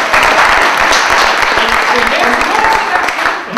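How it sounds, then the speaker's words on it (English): A close, loud round of audience applause at a Table Mountain event, dense continuous clapping sustained throughout and tapering only slightly at the end, with voices faintly mixed in. "can we get a round of applause?"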